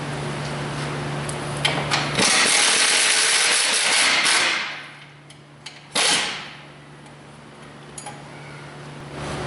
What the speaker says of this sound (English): It's got a 13mm bolt holding it on. You're going to want to remove that.